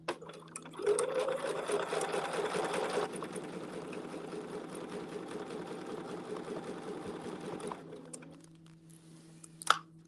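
A sewing machine quilting short flower-petal designs runs in a steady fast whirring burst for about seven seconds, then slows and stops, followed by a couple of small clicks.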